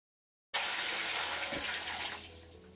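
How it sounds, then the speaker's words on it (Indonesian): Water from a glass filled at the tap splashes out in a sudden loud gush, a bright rushing spill that starts abruptly after a moment of silence and thins gradually over two seconds, with no voices. "mendapat guyuran air dari gelas yang sudah diisi keran"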